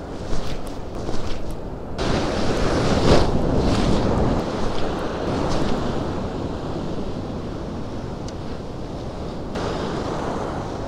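Ocean surf rolling onto a beach at a surf perch fishing spot, a steady broadband wash of breaking waves with wind buffeting the microphone, loud and continuous throughout with no talk.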